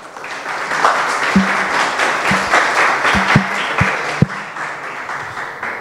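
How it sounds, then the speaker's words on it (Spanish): An audience at the inauguration of a national competency examination and certification centre gives warm applause, a continuous wash of clapping with a few sharp, distinct claps standing out near the front. "Recibámoslos con un fuerte aplauso."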